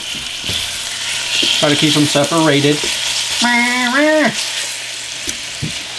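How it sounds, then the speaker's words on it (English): Chicken for keto fajitas sizzles in hot oil in a camp pan, a steady close frying hiss running throughout while a voice speaks briefly over it. "Start hearing some sizzle."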